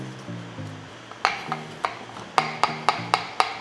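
A knife slicing chili taps sharply against a cutting board in quick, uneven chops, each cut a crisp knock, with faint low tones in the background.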